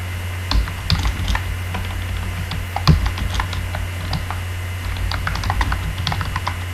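Someone types a program on a computer keyboard. The keys clatter in irregular bursts, close up, over a low steady hum in the room.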